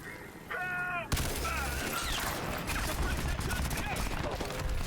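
Rapid SMG bursts crackle in a Crysis 3 Remastered firefight, a synthetic tone sounding first and then dense, loud automatic fire running continuously at close range, with a voice speaking briefly under the shots.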